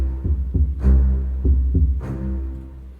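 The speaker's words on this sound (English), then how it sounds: "But I really wanted to sound like this is a heartbeat almost." Heartbeat-like percussion in tense Lego video game style music: soft low double thumps repeating in a steady throbbing pulse over a sustained tone.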